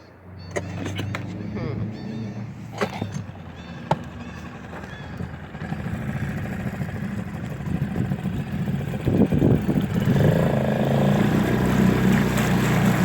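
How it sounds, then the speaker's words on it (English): A small dinghy outboard motor drones steadily, growing louder and fuller toward the end, with a few knocks and clatters early on and some voices underneath. "we can start the engine now in the dinghy"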